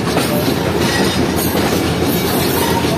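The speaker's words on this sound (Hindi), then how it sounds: "रिहोड़ी junction south cabin train accelerate करना शुरू करेगी" The Baba Fareed Express picks up speed leaving a railway junction, a loud, steady rumble of wheels and carriages with a continuous clattering rhythm heard from on board.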